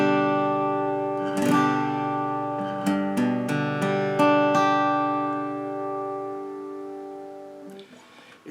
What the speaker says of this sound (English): the name of the chord is G, or more specifically, the Bluegrass G, and it sounds like this.